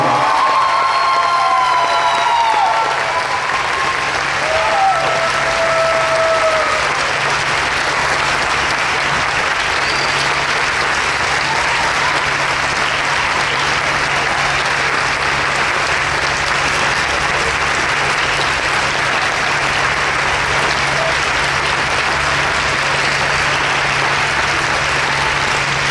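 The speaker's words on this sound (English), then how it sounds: "Everybody, please applaud a brave man and a brave engineer." Sustained applause from an audience at an evening graduation ceremony fills the whole stretch, steady and dense with a few faint shouts and voices near the start.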